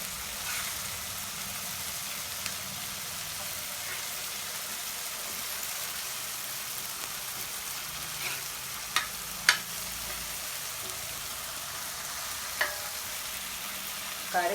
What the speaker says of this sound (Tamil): தக்காளி வந்து நல்லா வதங்கிடுச்சு